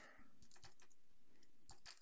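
Keys clack on a computer keyboard as commands are entered in a terminal, a few quiet, irregular taps with short pauses, close by and faint, with no talking.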